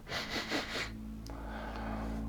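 A voice imitates a large bear sniffing the air, giving a few quick, close breathy sniffs followed by a quiet, steady background.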